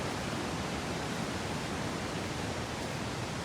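The small Bhorle Jharana waterfall, little more than a modest stream of water, pours in a constant, even rush of close white-noise hiss with no break or voices.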